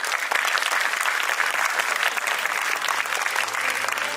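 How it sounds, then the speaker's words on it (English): Audience applause for parents at a school annual day celebration in Baroda, dense sustained clapping from a large crowd filling the hall, steady and loud throughout without speech. "A big round of applause for our parents."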